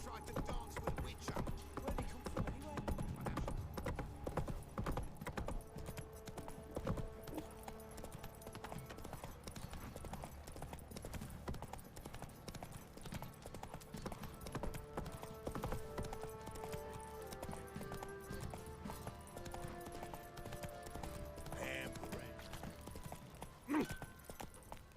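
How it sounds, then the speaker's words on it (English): Horse hooves clip-clop steadily in the video game The Witcher 3: Wild Hunt, quiet and rhythmic beneath game music and effects, with a little talk in the background. "con el puñetero caballo"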